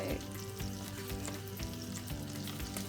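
Flour added to melted butter in a pan bubbles and froths in a steady, close sizzle with a faint rhythmic stirring texture underneath, and no one speaks.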